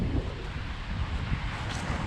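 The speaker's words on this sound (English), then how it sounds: "it is getting tad windy anyhow" Wind blows steadily outdoors, a constant low rushing buffet against the microphone that stays loud and even throughout, with no talk.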